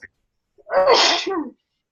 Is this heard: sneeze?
yes